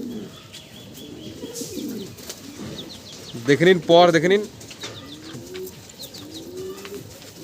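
Madrasi pattha pigeons coo in soft repeated phrases, with a burst of wing flapping midway, while someone talks over them throughout.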